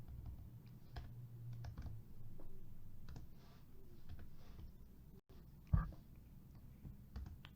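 Rapid typing on a computer keyboard, a steady run of soft close clicks with brief pauses and one sharper knock near the end, heard alone in a quiet room.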